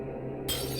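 A vase shatters in The Seance of Blake Manor: a quiet stretch suddenly breaks into a single bright crash of breaking glass or ceramic halfway through, ringing out loud and close.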